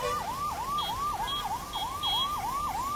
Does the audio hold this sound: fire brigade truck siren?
yes